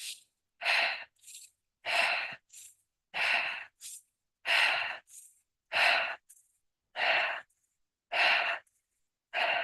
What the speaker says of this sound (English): just start breathing in and out rapidly